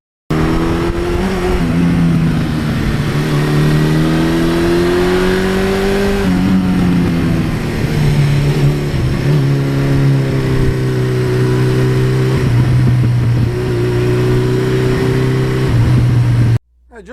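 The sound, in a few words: motorcycle engine revving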